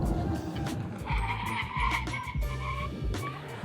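A NIO ES8 SUV brakes hard during a test drive on an open steppe road, its tires squealing and skidding in a sustained, strained screech over a low rumble.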